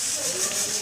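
A voice imitates the sizzling of chips frying with a short, steady breathy "shh" hiss, close and fairly loud, lasting under a second.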